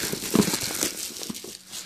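Paper packaging from a limited-edition fan box crinkles and tears as it is crumpled and pulled away during an unboxing, a brief close burst of rustling with a sharper tear near the start.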